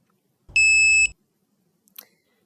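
An INVIROX dog training e-collar gives a single clear electronic beep of about half a second, close and loud, followed by quiet with a faint brief rustle.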